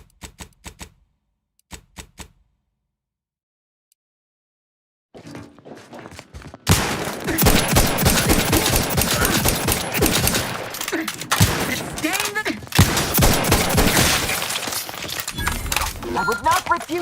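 Rapid bursts of video game gunfire with sharp, dense crackling shots fill the second half after a quiet stretch of faint clicks, loud and continuous with brief pauses.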